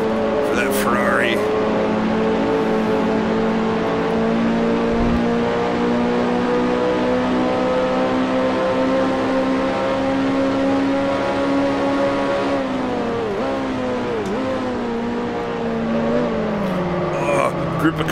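Droning 1968 Formula 2 race car engines at Thruxton in the video game Grand Prix Legends, a sustained close engine whine with shifting pitch as gears change, with someone talking over it throughout.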